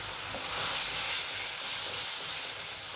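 Turmeric and chili powder spices frying in a pan, a steady close sizzle with soft stirring scrapes, loud and continuous, no voices.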